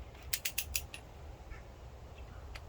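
A torque wrench tightens lower intake manifold bolts on a Ford Ranger, giving a quick cluster of four or five close metallic clicks. A faint ratcheting tick follows over a low, quiet background.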